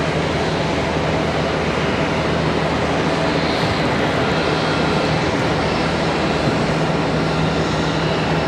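A steady, loud roar of a jet airliner fills the air as an American Airlines Boeing 737 MAX 8 arrives at Charlotte Douglas airport, a broad, constant engine rumble heard from a distance, with no voices.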